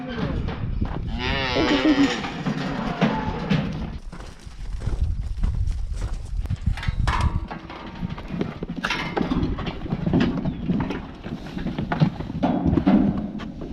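Cows and calves moo repeatedly while being loaded onto a livestock trailer, with hooves clattering on the trailer floor and metal knocks, close and busy throughout.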